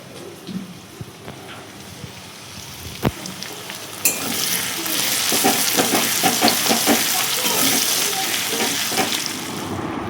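Chicken frying in oil at night gives a quiet, hissy background that swells about four seconds in into a loud, continuous sizzle, with stirring clatter and scraping on top.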